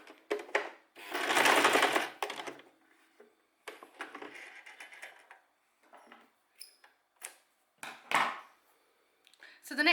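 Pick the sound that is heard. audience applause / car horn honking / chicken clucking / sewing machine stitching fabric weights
sewing machine stitching fabric weights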